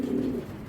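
A male grizzle Belgian racing pigeon gives a short, low coo, close and fairly soft, alone in a quiet setting.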